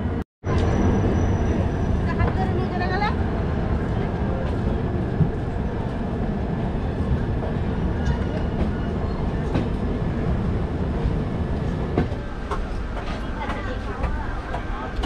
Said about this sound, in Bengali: হাওড়া তিরুপতি হামসাফার ছেড়ে দিল হাওড়া স্টেশন